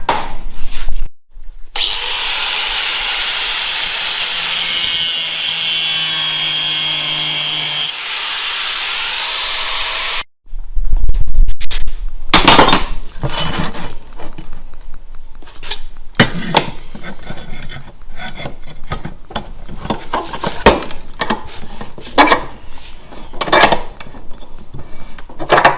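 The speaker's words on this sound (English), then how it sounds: "Okay, so I'm going to put a little nick in these now." Metal on a ute is being cut with small nicks. A continuous grinding, sawing rasp comes first, then a series of sharp, uneven scraping strokes follows close by.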